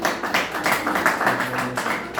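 A classroom group claps together during a biology lesson, a steady patter of many hands lasting a couple of seconds, fairly close and moderately loud with no talk over it.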